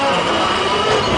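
A train crossing the Tham Krasae bridge gives a loud, close, continuous rumble and rattle of rail cars throughout the brief moment.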